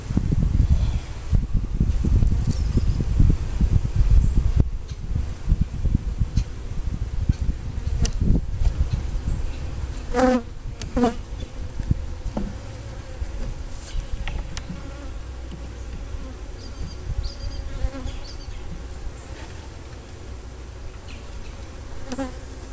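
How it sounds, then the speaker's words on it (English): Honeybees buzzing over a hive frame, a continuous close swarm hum with individual bees zipping past the microphone, a few handling knocks and rustles, no voices. "Good looking bees. They're very healthy."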